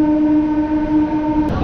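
Inside a Santragachi to Mecheda local train standing at the station, a steady, droning tonal hum fills the carriage, and a brief rough noise swells near the end.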